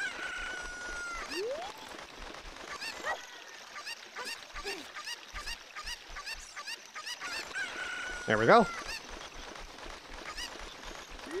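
Cuckoo chickens in The Legend of Zelda: Ocarina of Time randomizer, with honking, crowing game fowl calls recurring through the clip and a louder squawk near the end, while a player speaks briefly.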